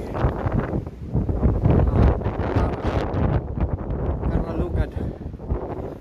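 Gusty wind buffets the microphone in low rumbling blasts in a car park, with a voice speaking faintly underneath.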